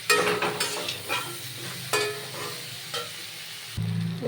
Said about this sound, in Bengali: এইবার এগুলোকে আমি একদম তেল ছাড়া পর্যন্ত, টমেটোটাও গলে যাবে, সুন্দর করে কষিয়ে নেব।